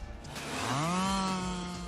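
A chainsaw cuts into a block of ice for a sculpture, its engine revving up into a loud, steady whine that holds near and strong, with no talk.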